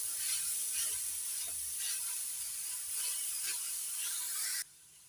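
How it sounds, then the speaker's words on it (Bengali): Grated beetroot and carrot fry over high heat in a pan, giving a steady bright sizzle with a few soft stirring scrapes, close and continuous until it drops off abruptly near the end. "মিশিয়ে একটু হাই হিটে ভাজা ভাজা করে নেব।"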